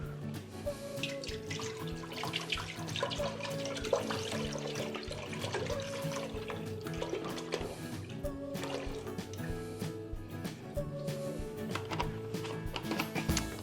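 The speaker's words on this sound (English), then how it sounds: "So let's just pop 2 litres of milk in here." Two litres of milk poured into a pot on the stove for ricotta, a continuous liquid splash and trickle with small drips that lasts throughout.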